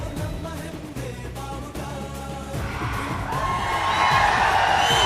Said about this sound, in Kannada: ಶ್ರುತಿ ಮೇಡಮ್ಗೆ ಬರ್ಲಿ ಜೋರ ಚಪ್ಪಾಳೆ